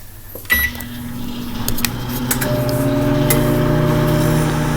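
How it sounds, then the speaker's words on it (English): A microwave oven starts up to cook a frozen hot dog: a sharp click of the door or control, then a steady, close humming drone that holds on to the end, with faint ticks scattered over it. "So now we're going to go ahead and put it in the microwave."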